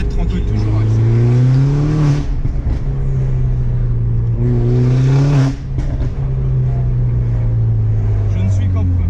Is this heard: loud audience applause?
no